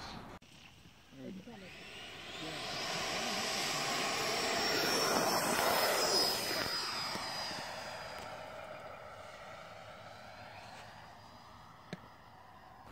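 An Avanti S RC model jet takes off, its turbine whine rising and swelling to a peak midway before fading as the plane moves away, heard at moderate distance outdoors.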